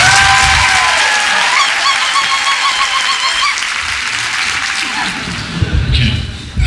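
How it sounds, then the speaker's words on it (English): Audience applause fills a live evening reading event, dense and steady clapping mixed with cheers and whoops throughout, tapering slightly near the end. "Can we have just a round of applause that this exists?"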